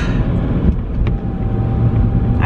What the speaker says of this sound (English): this car's about to hit me